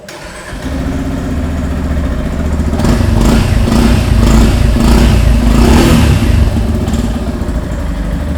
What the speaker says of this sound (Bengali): এবার আমি এই বাইকটার এক্সস্টের সাউন্ডটা আমি আপনাদেরকে শুনিয়ে দিচ্ছি।